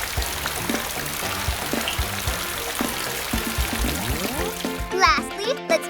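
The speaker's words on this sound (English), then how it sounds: "let's rinse the bubbles off with water" Water pours and trickles while bubbles are rinsed off a cartoon car at a car repair station, under a voice and bright music, with a splashy burst near the end.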